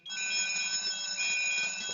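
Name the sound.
FM200 fire suppression system alarm test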